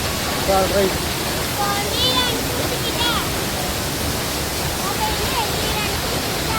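Kund waterfall in Kerala, taken from a viewpoint above the falls, gives a steady, dense rushing roar of falling water that fills the whole clip, with faint chirps and distant voices mixed in.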